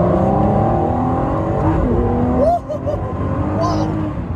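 Ford GT sports car engine pulling hard under acceleration from inside the cabin, a loud sustained drone with rising revs and a brief dip partway through as a gear changes.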